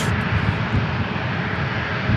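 An airliner's engines roar in a steady, loud, close rumble as it prepares for takeoff at San Diego International Airport, with no talking.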